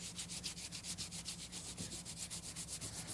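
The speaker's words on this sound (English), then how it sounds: "just keep dipping your sanding block into the water, just keep cleaning out your sandpaper" Steady rhythmic wet sanding of boat gelcoat with a sanding block, quick back-and-forth strokes with a gritty wet hiss, close and fairly quiet.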